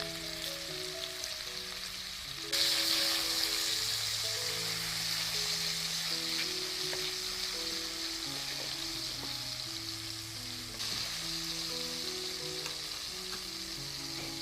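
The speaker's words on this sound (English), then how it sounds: "I start by frying the meatballs until golden from all sides just to get that crust." Meatballs frying in a pan until golden, a steady close sizzle and crackle of hot oil with occasional stirring, no voices, with background music.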